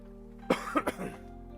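A single short cough, two or three quick bursts in a row, close and fairly soft, from someone nursing a sore throat.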